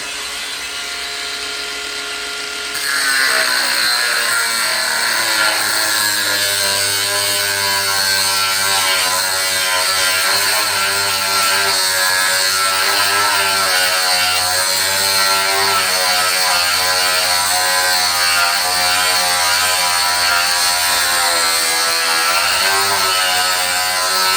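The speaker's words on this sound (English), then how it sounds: "Chuck it back in the chuck. We'll machine this side off, and then that's one done." A lathe machines a motorcycle trailer axle pin: after a short lower hum, the motor spins up into a loud, steady whine with buzzing cutting noise, continuous and close for the whole stretch.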